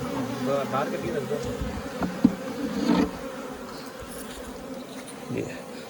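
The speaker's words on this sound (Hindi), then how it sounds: "हाँ जी, मक्खी शहद ले रही है" Honey bees buzz around a honeycomb at a bee farm, a steady droning hum with a few louder passes of individual bees near the listener and some faint background noise.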